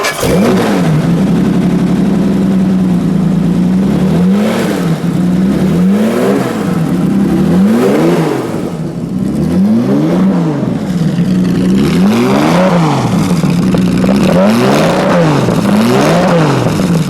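A 1958 Lister Jaguar Knobbly race car engine, bonnet open, runs loud and close, its deep note swelling and falling in repeated blips of the throttle throughout.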